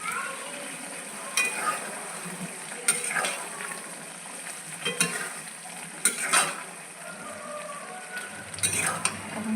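Pre-fried chicken pieces tipped into a cooked-down spiced masala for Afghani chicken malai curry, sizzling in oil with intermittent scraping stirs of a spoon against the pan, moderately close.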